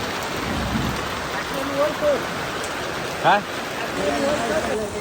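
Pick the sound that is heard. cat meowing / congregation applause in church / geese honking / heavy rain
heavy rain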